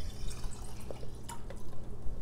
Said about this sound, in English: take our 1 cup of filtered water and we're just gonna pour it right in here.